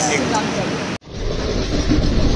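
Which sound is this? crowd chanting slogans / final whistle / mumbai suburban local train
mumbai suburban local train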